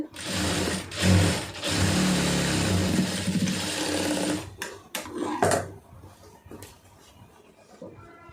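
Sewing machine stitching a lined blouse, a loud close whirring run of rapid stitches for about four seconds that stops and gives way to softer handling clicks.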